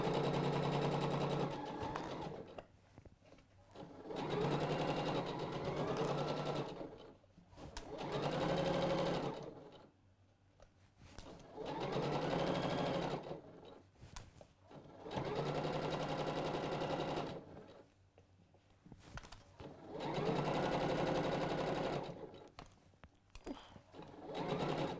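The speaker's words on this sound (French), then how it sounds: "on va pouvoir passer à la machine pour assembler nos deux morceaux" A domestic sewing machine stitches two fabric pieces together in five steady bursts of rapid whirring, each several seconds long, with short quiet pauses between them, close and clear.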